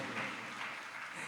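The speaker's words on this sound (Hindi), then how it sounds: "अब इसमें ताली बज गई।" An audience claps during a Jain monk's religious discourse in Jabalpur, a brief, soft, dense patter of applause from a crowd heard at a distance.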